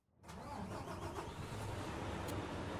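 A dump truck's engine in the game Construction Simulator 2 turns over, catches, and settles into a steady, loud, continuous rumble with no voices.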